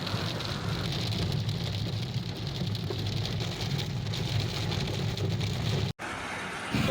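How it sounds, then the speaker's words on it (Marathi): Heavy rain mixed with hail pours down in Pune as a dense, steady roar that holds loud and unbroken, with a brief cut near the end before the downpour resumes. "व्हिडिओमधील येणाऱ्या आवाजामुळे तुम्हाला कळतच असेल की किती जोराचा पाऊस पडत आहे."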